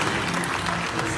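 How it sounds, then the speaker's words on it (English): Audience at a skills development centre graduation ceremony claps in a brief, dense burst of applause. "Please let's clap for them."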